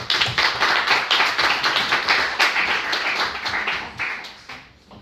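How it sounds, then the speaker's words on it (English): Audience applause at a startup founders event in Italy, a dense, loud, steady clapping from a room full of people that fades out toward the end. "So big round of applause for Lucrezia."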